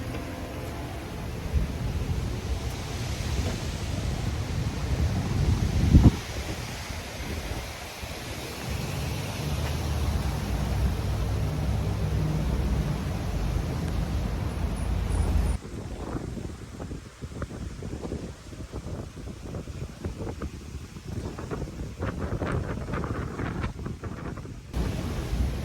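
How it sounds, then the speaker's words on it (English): Strong wind roars and buffets outdoors, a loud continuous rush with heavy gusts against the microphone, steady throughout with no talking. "Crazy how the wind is out there."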